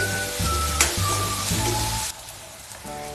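Ginger, garlic and garam masala sizzle in a pan with a soft, steady crackle, joined by brief scraping and stirring knocks, faint and close.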